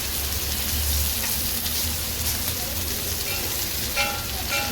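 Shrimp frying in hot oil until golden brown gives a dense, continuous sizzle and crackle, loud and close, with faint scattered pops near the end and no voices.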